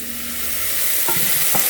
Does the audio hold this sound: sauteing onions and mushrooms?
yes